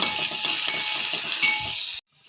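Onion, fenugreek, mustard seeds and garlic fry in a pan with a steady, loud, close sizzle and faint stirring scrapes, cutting off abruptly near the end.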